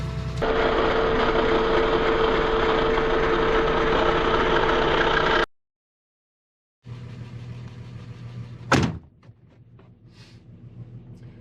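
A high-mileage Mercedes SUV with grey bumpers, fire-damaged and derelict, idles steadily and loudly for about five seconds after starting, then cuts to silence before a rougher, quieter engine rumble returns with a brief sharp burst.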